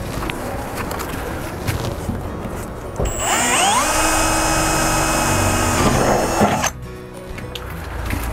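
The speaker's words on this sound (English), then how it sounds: "We need to drill a pilot hole. I'm gonna be using a 6 mil drill bit." A power drill with a 6 mm bit spins up and bores a pilot hole in a roof for a Flettner vent, a loud whining motor with rising pitch, then cuts off abruptly into quiet room noise.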